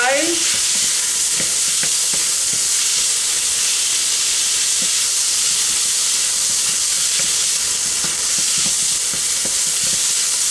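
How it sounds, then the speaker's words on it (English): Spring onions and peppers sizzle and hiss loudly in a hot pan with a little added water, a continuous dense crackle with occasional stirring clicks. "I'm just going to continue to fry these now."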